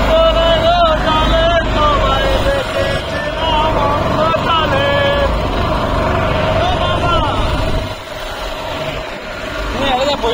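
A fuel-powered speedboat heads to Saint Martin's island at modest speed, its motor roaring continuously amid buffeting wind while voices chatter over it.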